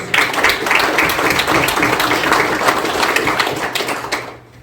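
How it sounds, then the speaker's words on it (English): A crowd at an annual general meeting applauds city employees with brisk, close clapping that stays full for several seconds, then tapers off near the end. "they deserve a round of applause too, please"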